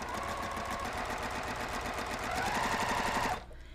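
Close, loud sewing machine stitching a quilt block, a steady rapid mechanical whir of needle strokes for several seconds that cuts off abruptly near the end.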